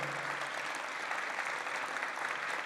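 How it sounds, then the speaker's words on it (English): A room full of attendees at a paramedics awards celebration gives a steady round of applause, a dense, even wash of clapping heard from a distance at moderate volume. "Can we just get a round of applause for all of the paramedics in the room?"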